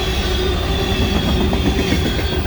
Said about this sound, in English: That thing is booking it. See the track moving up and down a little bit